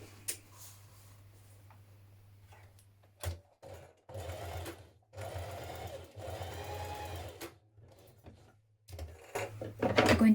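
Short runs of a sewing machine stitch down the seam allowance of dungarees, stopping and starting in several brief bursts with small clicks and handling noises in between.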